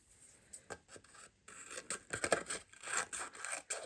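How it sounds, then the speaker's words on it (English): White card being trimmed for handmade Christmas cards, a close run of dry scraping and snipping strokes in uneven bursts, quiet and without talk. "Yes, just trim this down a little bit."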